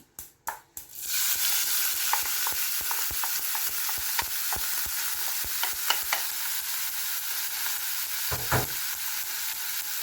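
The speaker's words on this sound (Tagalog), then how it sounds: "Luluto muna natin yung ating karne." Minced pork frying in a pan for an eggplant omelette, a steady loud sizzle with a regular series of scraping stirs, close up, preceded by a few brief knocks, no voices.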